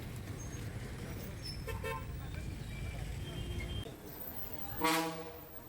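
A KSRTC bus pulls into Siddapur bus stand amid faint traffic rumble, then a single short horn toot sounds near the end, with voices faintly in the background.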